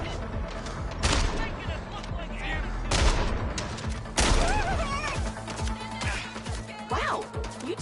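Gunfire rattles through a Mindseye firefight in repeated loud bursts and single shots, mixed with impacts and crashes, while voices talk over the action.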